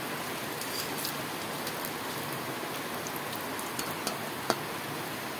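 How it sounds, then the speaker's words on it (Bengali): Steady rain falling outside, a constant even hiss of drops with a few faint ticks and taps on surfaces, continuous and moderately quiet with no voices. "এই যে দেখুন, বাইরে কি বৃষ্টি হচ্ছে।"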